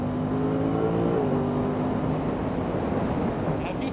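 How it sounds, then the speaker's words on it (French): An Aprilia RS660 parallel-twin motorcycle engine revs briefly with a throaty, rising then falling tone, then settles into a broad steady rumble, close and moderately loud. "comme vous l'aurez deviné, même à la sonorité, c'est un bicylindre."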